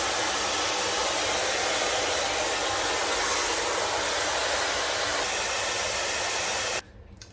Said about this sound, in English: I'm gonna go sit under the hooded dryer for like 10 minutes